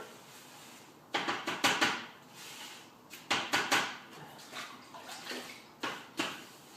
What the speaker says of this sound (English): Now before I mix, I'm going to add water